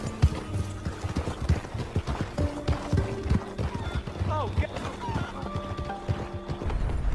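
Horse hooves clip-clop in rhythmic bursts in the video game Red Dead Redemption, mixed with the game's background sounds and occasional animal calls.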